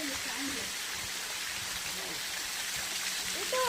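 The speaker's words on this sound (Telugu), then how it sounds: "ఇదంతా పాలధార పంచదార వాటర్ ఫాల్స్" Paladhara Panchadara waterfall by a forest temple, a steady hiss of falling and splashing water, moderately loud, with brief human vocal sounds over it.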